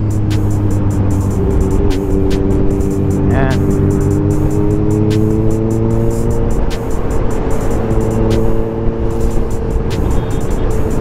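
A three-wheeled Can-Am vehicle drives steadily, its engine hum loud and close with gentle pitch changes as it moves, while someone talks briefly over it.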